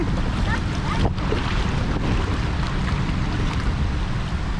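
Steady, loud wind buffets the microphone on a cold Bear Lake beach at Rendezvous Beach in Utah, a continuous broadband roar with faint lapping water beneath and no talk.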